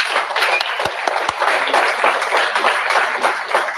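A crowd at a rally applauds loudly and continuously at close range, a dense burst of many clapping hands, with a few sharp knocks standing out in the first second or so.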